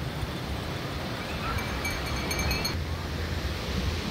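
Surf rolling onto uShaka Beach in Durban, South Africa, a steady broadband wash of waves with wind buffeting the microphone throughout, no break in the roar.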